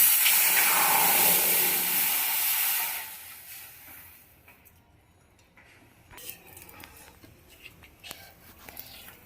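Water poured into a hot kadai on a gas stove bursts into a loud, broad hiss for about three seconds, then dies away to quiet ticks and small handling noises.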